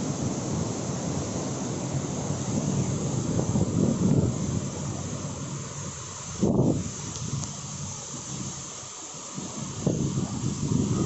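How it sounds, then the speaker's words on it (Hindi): Strong storm wind of about 70 to 80 km per hour roars steadily past a home balcony, with a dense low rumble and occasional louder gusts. "70 से 80 के किलोमीटर पर आवर पे ये हवा चल रही है"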